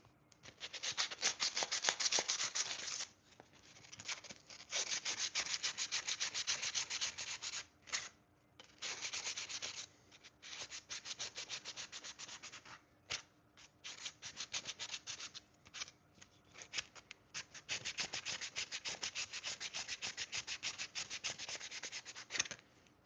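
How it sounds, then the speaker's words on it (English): Rapid back-and-forth sanding rasps on a knife handle close by in long bursts, pausing briefly a few times before resuming, with no voices. "just a nice little light sand with that"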